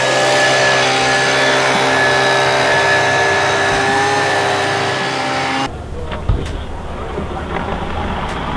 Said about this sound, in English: the blowers will blow the snow off so that the ice is nice and flat for the next one